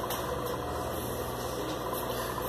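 Sansei SA-M3820-64 two-needle chainstitch industrial sewing machine with a conventional motor, running steadily as a continuous hum and whir at moderate level, with no talking.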